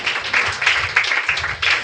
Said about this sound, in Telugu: చప్పట్లు కొట్టి ప్రభువును ఘనపరచుదుము గాక.